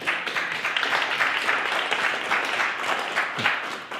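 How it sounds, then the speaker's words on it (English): Audience at a speaking event clapping together in sustained, fairly loud applause that holds steady throughout. "Give him a round of applause, everybody."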